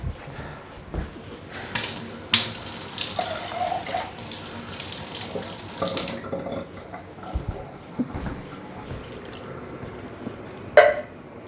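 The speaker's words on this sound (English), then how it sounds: "Just rinse that out with a bit of water." Tap water runs into an emptied tomato can at a kitchen sink, a hissing, splashing gush for several seconds that then stops, followed by quieter handling noises and a final clink.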